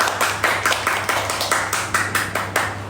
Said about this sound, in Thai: ปรบมือดังๆไปครับ